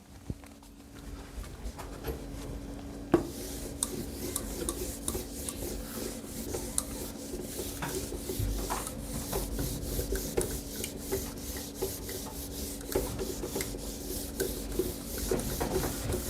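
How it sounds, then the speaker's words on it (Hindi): A duster rubs writing off a board in a maths classroom, giving repeated scratchy, rasping strokes in an uneven rhythm, close and fairly quiet, with no talking. "इसको मैं रब कर देता हूं"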